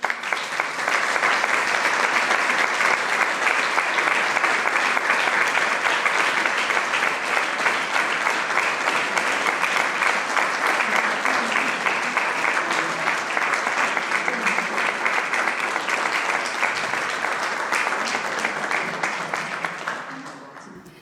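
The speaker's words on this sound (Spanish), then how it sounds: "Vamos a recibirla con un caluroso aplauso" Audience applause at a cultural centre interview event in Arrecife, welcoming a guest speaker: steady, dense clapping from a crowd lasting about twenty seconds, then tapering off at the end.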